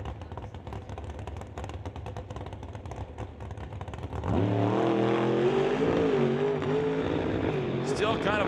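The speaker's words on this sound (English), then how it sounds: "It's kind of on and off the throttle all the way from the start line to about halfway down to the 8th mile." A drag race car at an NHRA Summit ET Series event rumbles at a distance before its engine roars up sharply and stays loud and sustained as it accelerates down the track, with pitch wavering as the throttle comes on and off.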